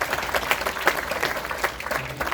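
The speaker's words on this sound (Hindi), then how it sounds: "तालियां हो जाए सर के लिए।" An indoor audience applauds a speaker at an event, steady scattered clapping from a moderate-sized crowd for a couple of seconds.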